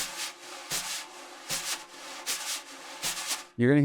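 Soft jazz brush push strokes repeat in an even rhythm on a snare drum, each a smooth swishing push across the drum head, ending with a brief sustained tone.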